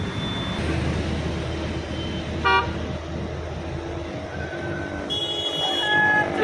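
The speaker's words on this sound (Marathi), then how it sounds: "पाठीमाग गाड्यांचा जत्ता आहे" A long convoy of cars on a highway near Beed, heading toward Antarwali in a Maratha procession, rumbles steadily past while a couple of horns toot briefly, then longer blasts sound near the end.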